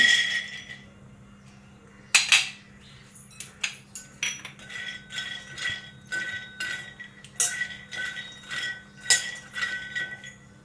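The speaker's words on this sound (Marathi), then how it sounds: "सर्वात प्रथम मी शेंगदाणे भाजून घेते" Peanuts dry-roasting in a pan as they are stirred, giving close, repeated light clinks, scrapes and rattles in uneven bursts over a faint low hum.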